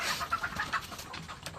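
Several hens sick with snot (coryza), some with swollen eyes, cluck softly in short, uneven bursts close by, with a faint background hum and no voices.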